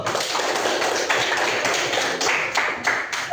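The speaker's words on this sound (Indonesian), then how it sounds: "Oke, berikan tepuk tangan dulu." Seventh grade students in an Indonesian coding and artificial intelligence classroom clap together, brisk and fairly loud in a small room, with a few sharper individual claps toward the end.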